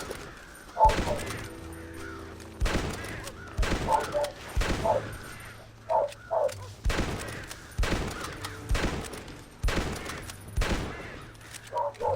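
Gunshots ring out in the video game Red Dead Redemption, about a dozen sharp loud cracks fired in an uneven rhythm, some in quick pairs, with brief quiet gaps between them.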